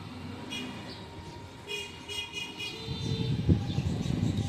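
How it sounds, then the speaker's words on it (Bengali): Morning street traffic rumbles at a moderate distance, with engine drone building toward the end and a few faint horn-like toots over it, no one speaking. "সকাল সকালে আজকে গাড়ির আওয়াজটা খুব বেশি,"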